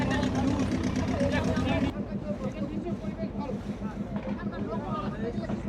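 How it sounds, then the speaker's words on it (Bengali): A boat moving on a river near Rajbari ghat toward the river mouth at Taki, with a steady engine drone and wind rush throughout, louder for the first two seconds, while people talk over it. "তো আমাদের নৌকা এখন ডান দিকে যাচ্ছে।"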